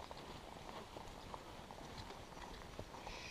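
Horse hooves clip-clop steadily along a forest trail near Mencshely by Lake Balaton, Hungary, faint and rhythmic beneath a constant outdoor background.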